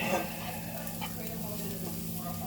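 Garlic frying in a pan, a steady soft sizzle with light crackle, fairly faint and close throughout.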